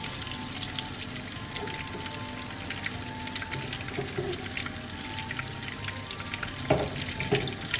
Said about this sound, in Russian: И вот так в горячем масле зажариваем с двух сторон.